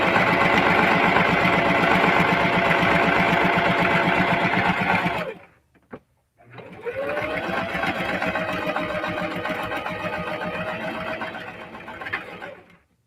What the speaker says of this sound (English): I'm going to backstitch a couple of times